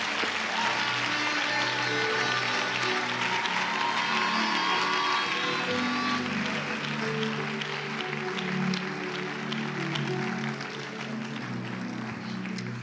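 A church congregation applauding loudly and continuously, dense clapping with some cheering voices mixed in, filling the space throughout.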